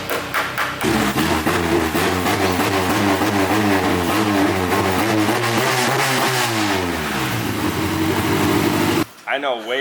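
A tuned Honda K series engine runs loudly close by, rising and falling through throaty revs with a rough, pulsing exhaust note, then cutting off abruptly near the end, with voices talking over it.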